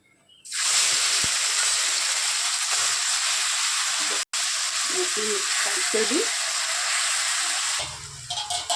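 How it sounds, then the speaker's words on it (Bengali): Taro stolons sizzle loudly in hot mustard oil, a steady broadband frying hiss filling nearly the whole stretch, broken by one brief cut and faint scraping stirs as the pieces are turned, fading at the end. "উল্টিয়ে দিচ্ছি আমি লতিটা"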